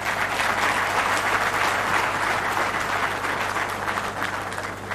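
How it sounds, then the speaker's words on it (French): Thunderous applause from a large audience after a speech by a first lady at a school excellence program event, loud and continuous crowd clapping with a steady low hum beneath. "un tonnerre d'applaudissements pour ce discours de la distinguée première dame"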